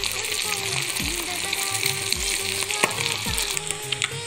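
Sardine roe fries in a pan with a loud, dense sizzle and crackle, while repeated scrapes and knocks of a spatula come at roughly one-second intervals, close by and without talk.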